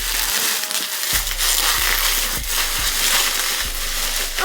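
A thickly wrapped package of lash-brand inventory is torn open, giving repeated loud crinkling, crushing bursts of plastic wrapping with sharp tearing accents, and no talking.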